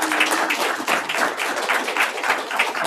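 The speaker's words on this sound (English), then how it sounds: "How about a round of applause for all these candidates?" A candidates' night audience applauds the candidates with steady, dense clapping throughout, moderately loud and without speech over it.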